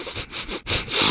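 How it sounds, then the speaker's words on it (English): A radio advert for Downy Unstoppables carries a few short, close, loud sniffs in quick succession, with brief gaps between them. "And now a sniff solo."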